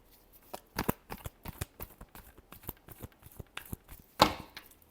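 Tarot cards being shuffled in a final shuffle: a rapid series of crisp papery slaps and riffles, close and fairly quiet, in uneven bursts with a sharper snap near the end and no talk.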